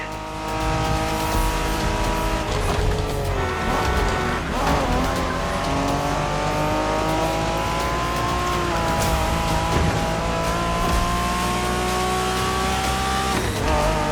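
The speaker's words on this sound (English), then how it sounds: "We're going for some proper Japanese street racing." Cars street racing in The Crew, a Japanese-style street race in the game: loud continuous engine drone with rising and falling revs, tire squeal and skidding bursts, engines howling without pause throughout.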